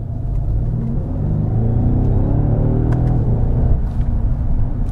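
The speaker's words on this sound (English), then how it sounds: "I'm gonna floor the car." Car floored to full throttle in normal comfort mode, a loud, steady low engine rumble that builds slightly over several seconds, heard from inside the cabin without speech.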